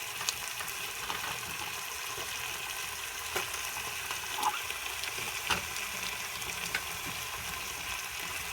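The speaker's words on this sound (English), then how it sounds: "So I let that saute for a couple minutes." Upo and shrimp sauté in a pan with a steady, moderate sizzle throughout, dotted with faint clicks and small pops.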